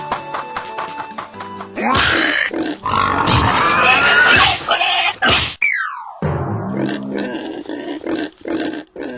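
Angry pigs grunting in a Nexon video game, loud, rough snorts and squeals packed together over several seconds, then a sliding game effect and more scattered grunts with small taps.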